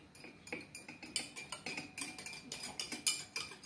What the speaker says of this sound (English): Now, I'll mix it.